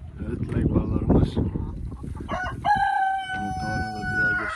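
Legbar chickens and roosters in a coop, with a loud rooster crow rising near the middle and held to the end over busy clucking and a voice talking.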